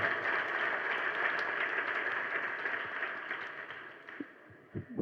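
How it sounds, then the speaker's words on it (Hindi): An audience at a Jain religious discourse on a flag-hoisting day keeps up steady, fairly soft applause that gradually thins and fades toward the end, with a few last scattered claps. "तालियां तो हमने बहुत सुन ली"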